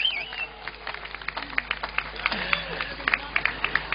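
Audience applause for maestro Antonio Palazzo at the Premio Battisti 2015 ceremony: scattered claps that grow denser and sharper, mixed with crowd murmur and some talking.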